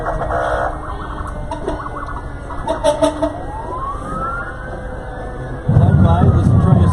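Fire engine sirens wail loudly as fire trucks roll past in a Halloween parade in Centralia. The sirens rise and fall over crowd noise, and a deep horn blast breaks in near the end.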